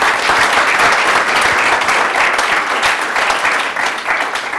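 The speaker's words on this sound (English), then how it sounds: "All right, how about a round of applause for our fantastic speaker?" Audience applause for a speaker at a tech talk on Kafka and Storm, a steady, loud wash of many hands clapping that holds evenly throughout.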